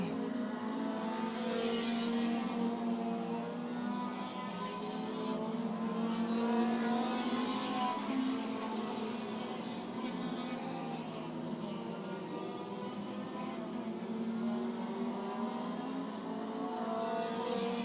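Race cars lapping the oval at Hudson Speedway roar continuously and loudly, engines holding a steady drone with rising and falling harmonics as the field circles past.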